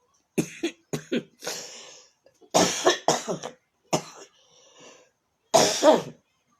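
Several raspy coughs come in short bursts and clusters, close and fairly loud, separated by brief silences.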